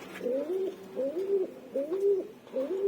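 Breeding pigeons in a loft coo in a steady, repeating pattern, four rolling coos close by with brief pauses between them and no voices.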